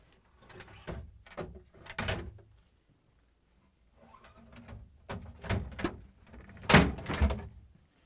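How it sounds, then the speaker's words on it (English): LG/Kenmore refrigerator crisper drawers are pulled out and lifted away. Several quiet plastic slides and hollow knocks come in two bursts separated by a brief pause, with no voices. "Next, I'm going to remove the 3 crisper drawers by pulling them out, lifting up,"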